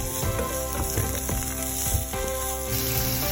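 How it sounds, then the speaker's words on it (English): Mushrooms and onions sautéing in a pan on a home stove, a steady close sizzle with a few soft stirring scrapes, no voices. "I sauteed some mushrooms and onions"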